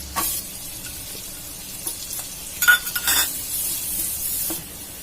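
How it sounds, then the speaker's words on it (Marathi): Chopped onion fries in a pan of butter and oil while it is stirred, giving a steady sizzle with a few louder bursts and utensil scrapes, close by and without speech. "कांदा टाकायचा आहे"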